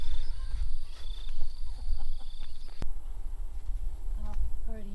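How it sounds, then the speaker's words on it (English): Bees buzz around on a farm, steady droning hums rising and fading close to the microphone over a low outdoor rumble, with a person talking at times. "There's fucking bees everywhere."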